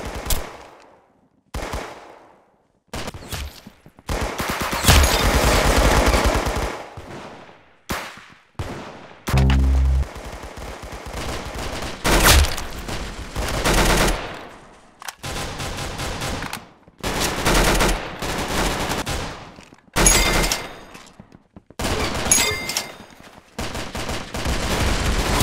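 Rapid bursts of gunfire from the Roblox shooter game Arsenal, played on mobile, fill the clip with dense repeated shots and short pauses, loud and close throughout.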